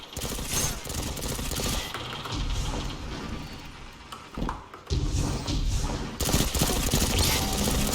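Rapid sustained gunfire from a trace rifle in a zone-capture shooter match, a dense rattling stream of loud shots that briefly drops off midway, then resumes strongly.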